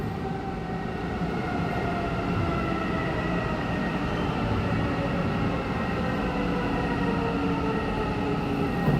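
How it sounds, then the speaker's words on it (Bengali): A metro train arrives at Riyadh's Marghab metro station, its steady, loud rumbling and humming rail noise holding throughout without interruption. "এই যে সামনের থেকে ট্রেন এটা আসতেছে।"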